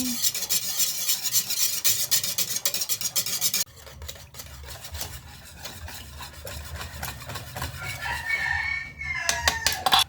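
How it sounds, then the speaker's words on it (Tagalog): A spoon stirs gulaman in a pot continuously with steady scraping, close and busy, as a rooster crows and clucks in the background. "So, iluto na natin yung gulaman. Ayan. Then, continuous stirring."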